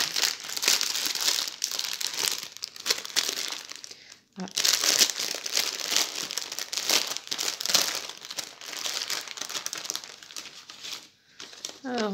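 A plastic zip bag from a diamond painting kit crinkles and rustles almost continuously, loud and close, with brief pauses and a short spoken word near the end.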